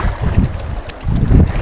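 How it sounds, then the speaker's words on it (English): A huge wave hits a small paddled boat off an island in strong wind, giving two heavy, close, low surges of water and hull thumps amid gusty microphone wind noise. "oh gosh, this is a huge wave."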